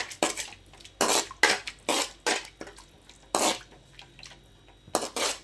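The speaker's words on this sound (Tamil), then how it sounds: "கொஞ்சம் உப்பு கொஞ்சம் சர்க்கரை சேர்த்து எல்லாம் கலந்துக்கலாம்" Salt and sugar being stirred into gobi manchurian sauce with a utensil in a pot, giving a series of distinct scraping and clinking strokes in an uneven rhythm, close and fairly quiet, with no voices.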